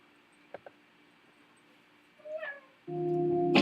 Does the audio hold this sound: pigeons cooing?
no